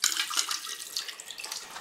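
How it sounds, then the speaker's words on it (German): Water pours into a sausage meat mixture, a short, soft splashing stream with faint gurgles, close but quiet and without any speech. "So, da gebe ich mal ein bisschen Wasser dazu."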